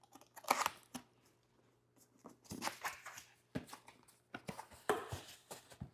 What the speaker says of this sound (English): So just grab my knife and cut it open.